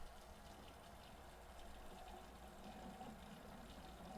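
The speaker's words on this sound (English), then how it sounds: "let's turn on a faucet" A faucet turned on in a house during a plumbing drain test runs with a faint, steady rush of water, soft and continuous, with no talking.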